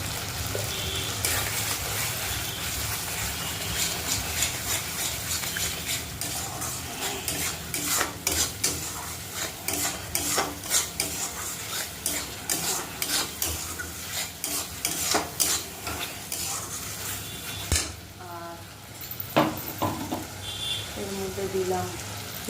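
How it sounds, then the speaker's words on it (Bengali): Turmeric powder goes into spice paste frying in oil and gets stirred continuously, with a steady sizzle under frequent scraping and clinking of a utensil against the pan, and a brief pause near the end. "তাকে যতক্ষণ তেল না বেরোচ্ছে ততক্ষণ এটা ভাজতে হবে এর মধ্যে দিয়ে দিলাম হলুদ গুঁড়ো"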